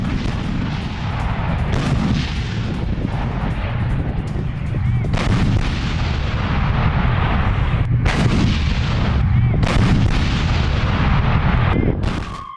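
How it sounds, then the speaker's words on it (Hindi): Loud artillery and tank fire pounds Ukrainian positions in war footage, with repeated heavy booming blasts at irregular intervals over a constant rumbling roar. "आर्टिलरी और टैंक से यूक्रेनी ठिकानों पर हमला किया गया है"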